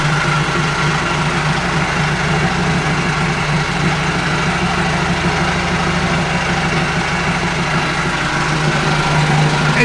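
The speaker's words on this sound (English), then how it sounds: "Obviously it's really loud right now. Engine still works." A boat engine runs loudly and steadily, a dense constant drone that fills the whole stretch and is heard alone with no voices.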